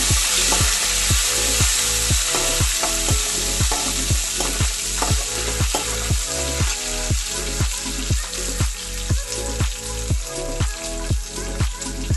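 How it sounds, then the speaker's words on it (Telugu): Curry leaves and dried red chillies stirred into hot sizzling oil for a lemon pickle, loud and close, with a rhythmic scraping stir about twice a second over constant frying hiss. "కరివేపాకు, వేసుకొని ఇలా కలుపుకున్నామండి."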